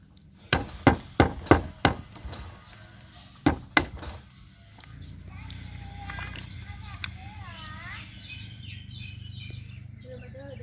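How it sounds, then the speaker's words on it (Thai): Sharp hammer taps on small nails, a quick series of about six strikes, a pause, then two more, followed by quieter background with faint bird chirps. "ตอกลงไป"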